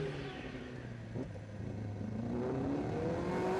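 Michael Rutter's racing motorcycle exits the Melco hairpin during Macau Grand Prix motorcycle practice, its engine revving hard and climbing in pitch through quick gear changes, loud against a rumbling track backdrop.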